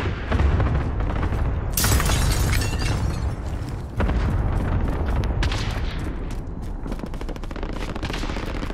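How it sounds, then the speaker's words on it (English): Heavy, sustained gunfire in the battle-royale shooter Warzone, with sharp loud shot bursts and booming blasts layered over a dense, continuous battlefield roar, close and intense throughout. "We're taking shots."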